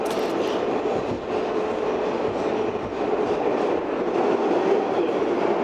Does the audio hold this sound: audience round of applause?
no